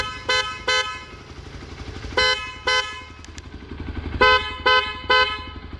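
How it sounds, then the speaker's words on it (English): A Roots Windtone horn fitted to a Hero Xpulse 200 4V motorcycle honks in short bursts, mostly in pairs, loud and close over an idling engine. "let me go ahead and honk and see how it sounds"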